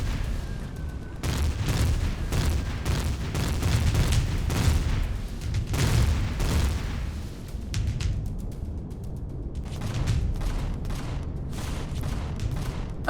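Gunfire in the sci-fi survival game Empyrion Galactic Survival, loud volleys of rapid shots and booming impacts in dense bursts, broken by brief lulls, with no talk.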